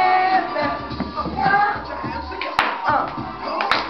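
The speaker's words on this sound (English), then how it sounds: "Put your hands together." Audience at a pre-school graduation claps hands along to a lively song, rhythmic claps mixed with singing and music, with a couple of sharper knocks standing out.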